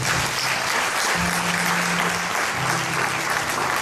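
A congregation at a church ordination ceremony applauds and cheers, loud dense clapping filling the hall without a break, with a low sustained tone from instruments beneath it.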